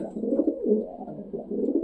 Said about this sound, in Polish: dzisiaj jesteśmy w Gołębniku u Mogilenego